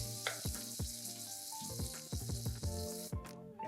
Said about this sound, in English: Griddle these till they're golden brown on each side.